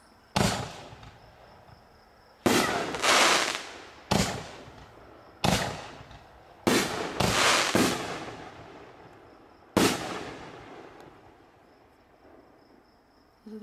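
King of Kings artillery shells fired from fiberglass tubes, a series of about nine loud sharp booms at irregular intervals, each trailing off into crackling decay outdoors, with faint insect chirping between blasts.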